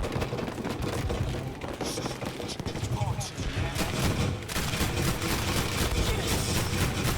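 Mounted gun firing in the Battlefield V prologue, a steady rattle of loud bursts under a dense, noisy battle din, with a voice faintly speaking beneath the continuous gunfire.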